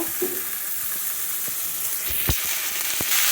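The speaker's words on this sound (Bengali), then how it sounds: "এবার ঢেঁড়স খুব সুন্দর করে একটু কষিয়ে নিই" Okra tossed into a pan of spiced masala sizzles with a steady broadband hiss, and a few sharp stirring knocks land near the end, with no voices.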